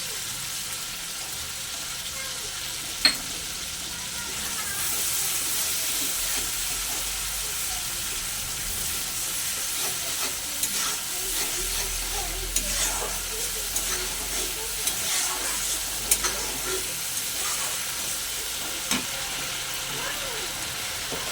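An egg curry masala sizzles and fries in a pan while yogurt is stirred in, a steady close hiss with scraping stir sounds throughout.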